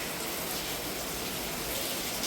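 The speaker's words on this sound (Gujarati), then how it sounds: "વરસાદ બંધ નથી થતો." Steady rain pours down outside a home during a family function, a dense even hiss of drops with no break, moderately loud and filling the whole stretch.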